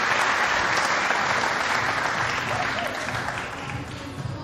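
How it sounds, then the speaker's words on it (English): A crowd applauds at a pool championship semi-final, a dense, loud wash of clapping that holds steady and then eases slightly toward the end. "The crowd loving it."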